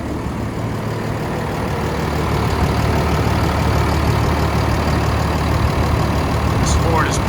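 A 2015 Ford F-750 box truck's 6.7-liter Cummins diesel idles with the hood open, a steady, even low rumble with a constant drone and no change in pace throughout.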